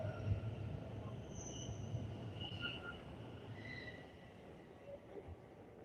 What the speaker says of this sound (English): So off goes the train.